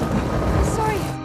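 Heavy rain pours at night in the fantasy film Jack the Giant Slayer, a dense steady roar with low rumbling beneath, with a voice faintly under it.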